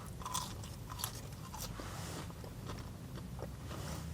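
Crispy fries from a Five Guys bag being bitten and chewed up close, a steady run of crunchy bites and mastication with no talking.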